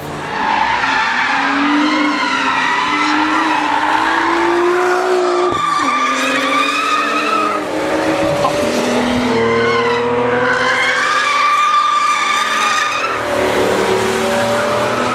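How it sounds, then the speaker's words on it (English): A BMW E60 M5 Ring Taxi racing hard on the Nürburgring, its engine wailing loudly through rising and falling gear changes with tire squeal, close and continuous, no talk. "This is her in action in the E60 M5."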